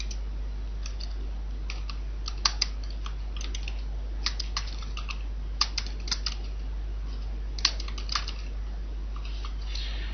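Text is typed on a computer keyboard, irregular bursts of light key clicks and taps at close range over a low steady hum, with occasional louder keystrokes and no speech.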